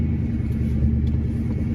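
A car engine idles with a steady low rumble, close and continuous with no talk; the vehicle has no brakes and no power steering.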